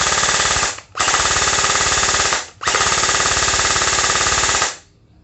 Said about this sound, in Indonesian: saya coba tembakin tanpa magazen ya, dengan baterai LiPo